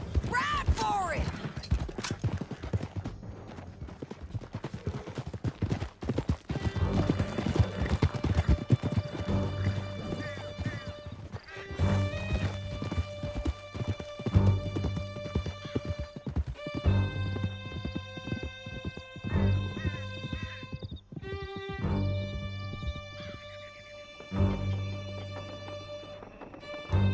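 Horses gallop in Red Dead Redemption 2, steady clip-clop hoofbeats and occasional whinnies running throughout under a game soundtrack and spoken dialogue.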